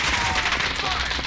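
Rapid gunfire in Call of Duty Warzone, a dense burst of shots running steadily through a short span with no pause, loud and close.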